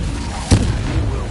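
An Incendio fire spell cast in the video game Hogwarts Legacy: a single sharp burst midway, with a crackling, whooshing flare trailing off over a low rumbling game backdrop.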